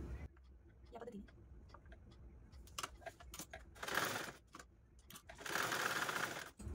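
Sewing machine stitching a half-inch fabric fold for a baby bunny cap, running in two short bursts of rapid whirring with quieter handling clicks between them and someone speaking softly.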